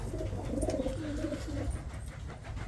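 Pigeons coo inside a coop, a soft, low, rolling warble repeated a few times over a quiet background, close by and without speech.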